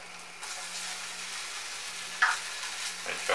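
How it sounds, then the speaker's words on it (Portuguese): Garlic fries in butter with wheat flour in a pan, giving a steady, soft sizzle and a few faint stirring scrapes. "Vai fritar aqui junto com a farinha de trigo."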